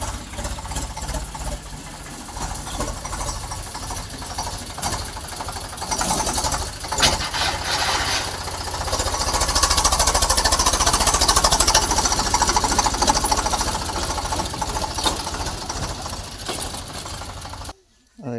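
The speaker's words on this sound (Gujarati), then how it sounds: "હવે ટ્રેક્ટર આવી ગયું" A tractor engine rumbles steadily as it arrives at a farm, growing louder toward the middle and holding a knocking, jackhammer-like idle before cutting off abruptly at the end, with faint voices underneath.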